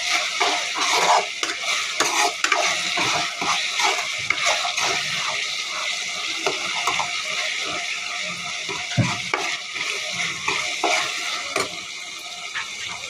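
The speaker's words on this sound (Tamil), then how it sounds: "இது பச்சை ஸ்மெல் போகிற வரையும் நல்லா குக் பண்ணுங்கள்." Curry masala for pulicha keerai potti curry sautés in a pan with a soft continuous sizzle, punctuated by frequent close scraping stirs and light clinks of the spoon against the pan.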